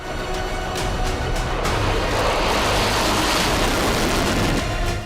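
A Russian Sukhoi Su-57 fighter jet produces a loud, continuous roar that swells through the middle as it passes and then eases slightly, with no talking.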